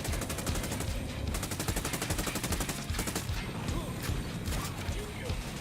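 Rapid automatic gunfire rattles almost nonstop in a Ghost Recon: Wildlands firefight against the cartels, dense repeated shots layered together at close range, with voices talking beneath the shooting.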